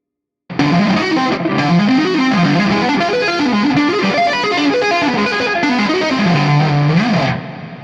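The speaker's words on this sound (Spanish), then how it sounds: "ahora vamos a intentarlo con distorsión" An electric guitar played through a distortion effect, a loud, saturated melodic riff with rising and falling note patterns that begins abruptly and rings on continuously before trailing off, no speech.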